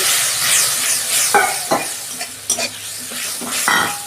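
Bhola fish curry with eggplant sizzles in the pan once water goes in, a bright steady hiss broken by a few sharp scrapes and clinks of the stirring spoon against the pot.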